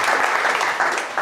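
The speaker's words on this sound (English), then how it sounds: "Give him a warm round of applause" Dense audience applause at a Canterbury tech meetup greets the next speaker, a close, loud wash of many hands clapping at once throughout the short stretch.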